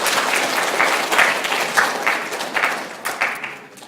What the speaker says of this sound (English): everyone, round of applause, welcome our two guest speakers, Catherine Miller and Cheryl Adam